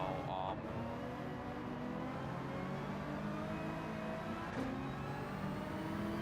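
A race car engine in a video game hums and revs steadily, its pitch sliding up and down through gear changes, with a couple of brief whooshes along the way.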